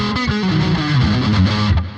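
Distorted electric guitar played through a BOSS GT-1000 with delay, a loud, saturated run of notes with repeats trailing behind, steady and continuous with no talking.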